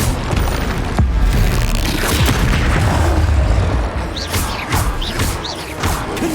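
Confringo blasting-spell explosions in the video game Hogwarts Legacy, a loud, continuous rumble of booms and crashes with several sharp whooshing bursts toward the end, dense battle noise throughout.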